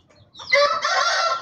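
A Brahma rooster crows once, close and loud, with faint chicken clucking just before it.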